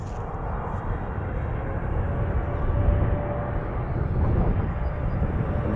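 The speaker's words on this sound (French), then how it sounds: "j'ai fait quelques vidéos sur les passages des avions au-dessus du parc" Airplane flying over a park near an abandoned village outside Paris, a steady broad engine roar that swells slightly toward the middle and continues throughout, heard from a distance with no talking.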